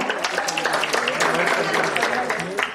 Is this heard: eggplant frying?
no